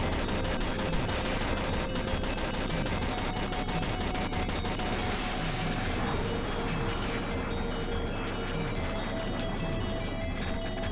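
Rapid video game gunfire in a Sega Mega Drive or Game Gear title rattles on continuously over busy electronic music and effects, dense and steady for the whole stretch.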